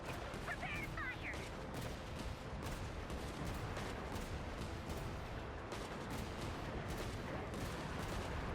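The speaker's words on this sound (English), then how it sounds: "Bosco 2, prepare to fire!" Soldiers in a video game fire on command, producing dense, continuous bursts of gunfire and booming volleys that fill the scene at steady loudness.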